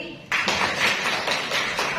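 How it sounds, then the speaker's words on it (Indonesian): Students in a classroom break into a burst of hand clapping that starts abruptly and continues as a dense, even patter of applause. "Kasih tepuk tangan lagi."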